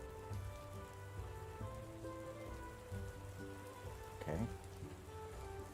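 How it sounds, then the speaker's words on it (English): Light drizzling rain patters steadily as a background ambience in a fantasy tabletop role-play scene, with music tones running through it and a voice speaking briefly. "heading off through the drizzling rain"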